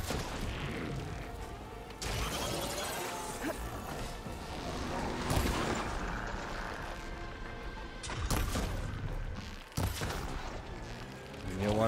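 Gunfire and impact crashes in the video game Horizon Forbidden West, a dense, loud barrage of shots and smashing bursts running throughout, with sharp peaks near the middle and toward the end.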